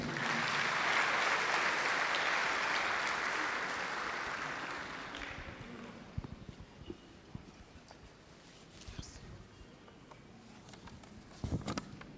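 A large audience applauds loudly and steadily to welcome a speaker at the opening of an interuniversity colloquium; the clapping dies away after about six seconds, leaving scattered faint claps and room noise.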